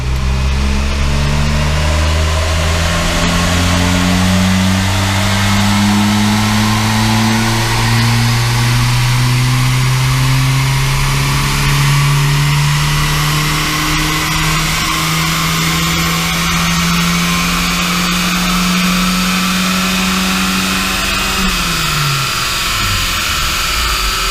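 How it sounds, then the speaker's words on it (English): A car engine is run up hard on a dyno rolling road, climbing steadily through a long, loud, sustained power run before the revs drop sharply at the end. "That was like the longest power run I've ever done."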